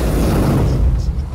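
A Molotov cocktail bursts into flames in the video game Alien: Isolation, a loud low boom and roar of fire that fades into crackling hiss.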